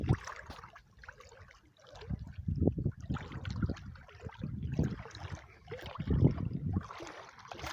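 A small fishing boat moves through open water, with low washing and splashing sounds that swell and fade unevenly, close by and moderately loud, with no talking.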